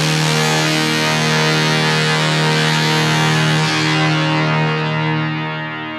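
Layered, resampled brass pitched down an octave forms a loud, thick, distorted low drone, sustained and steady, with a slight pitch shift partway through before it thins and fades at the end.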